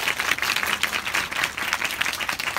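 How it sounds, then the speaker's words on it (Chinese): Audience applause at a live concert, a dense, steady wash of many hands clapping throughout, fairly loud and without talk over it. "所以我们可以让珊珊一个掌声"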